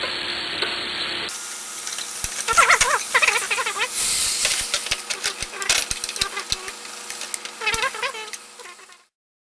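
Mushrooms from the base of an oak tree fry in a pan, giving a steady close sizzle with crackling pops and whistling squeals that fades away at the end.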